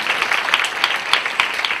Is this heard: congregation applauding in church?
yes